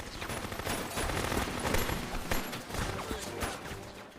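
Rapid bursts of gunfire crackle back and forth in dense volleys, loud and continuous, like a heated firefight in an action film.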